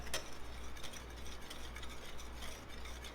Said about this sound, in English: I just use a wire whisk to mix them.